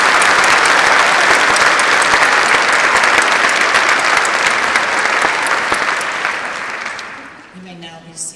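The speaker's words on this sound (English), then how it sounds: "Will the audience please join me in giving them a round of applause?" An audience at a graduation ceremony applauds steadily and loudly, the clapping fading out near the end as a voice begins to speak.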